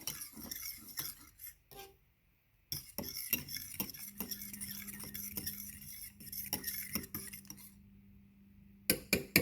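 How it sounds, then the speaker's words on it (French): A fork stirs food in a dish close by, making irregular clinks and scrapes. There is a short quiet pause, and a low steady hum runs beneath the later stirring. "je prends une fourchette. Puis j'ai essayé de brasser tout ça"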